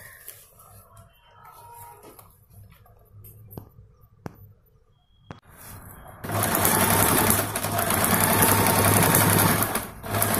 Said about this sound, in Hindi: ये इस तरीके से यहाँ से हम ये पूरा ऐसा सिल लेंगे